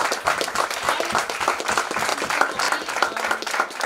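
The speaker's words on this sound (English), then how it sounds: "we would like to give a big round of applause" Audience applause at the closing ceremony of the Kathmandu Dialogue, a dense, steady patter of many hands clapping at once that carries on without a break.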